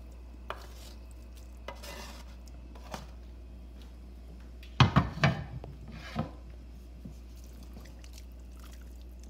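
Ham, chorizo and longaniza stirred in a pan for frijoles charros, with a low steady sizzle under scattered scraping and knocking of a utensil, including a louder cluster of clatters midway.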